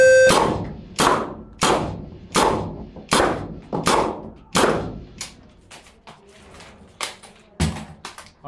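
A RAP4 paintball marker fires a string of sharp, loud shots, about one every 0.7 seconds at first, followed by sparser, quieter single shots and clicks as magazines are swapped out.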